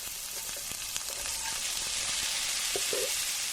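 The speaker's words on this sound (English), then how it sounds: "I grill up just a little bit of onion with beautiful pats of butter. And I cook them with garlic" Chopped onion and garlic sizzle in melted butter on a hot grill, a steady bright crackle with scattered pops and light stirring scrapes, no talking.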